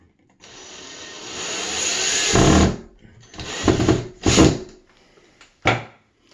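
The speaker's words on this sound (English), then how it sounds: "Just go ahead and drill through the paper." A power drill spins up with a rising whir, then short bursts of drilling through paper and grinding follow, ending with a sharp knock.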